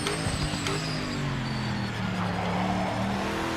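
A race car engine wails at full throttle in third gear in Project Motor Racing, a loud, sustained tone that climbs and shifts pitch over a few seconds with no talk.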